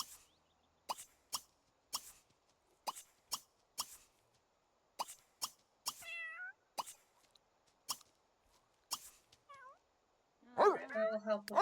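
Cats in The Sims 3 meow now and then between regular, evenly spaced clicks, and a longer, louder meow comes at the end.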